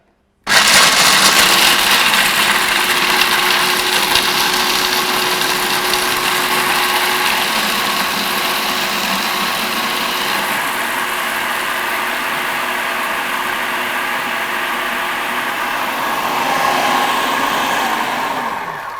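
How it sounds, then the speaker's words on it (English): Food processor grinding almonds, a loud steady motor whir running continuously for about eighteen seconds with a sustained tone, alone without speech. "we're going to grind these almonds in the food processor. This will make a lot of noise"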